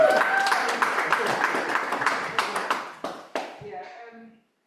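Audience at a Black History Month cultural celebration event claps as a round of applause, dense clapping that thins into a few scattered claps and fades out, with voices talking over it.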